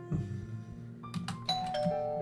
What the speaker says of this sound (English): Suddenly I hear the doorbell ring.